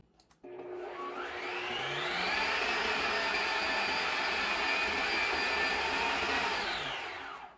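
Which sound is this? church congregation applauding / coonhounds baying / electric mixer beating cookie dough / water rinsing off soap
electric mixer beating cookie dough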